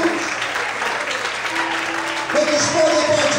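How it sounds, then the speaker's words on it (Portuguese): A church congregation applauds during an evening worship service, sustained dense clapping from many people filling the room, with voices mixed faintly beneath the applause. "Quantos podem aplaudir e exaltar a Deus nessa noite"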